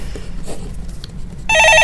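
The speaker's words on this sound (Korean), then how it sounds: "예, 전화 받아보겠습니다." A telephone rings at a TV stock-market call-in show, the bright, steady electronic ring starting abruptly partway through after low studio background noise, loud and close.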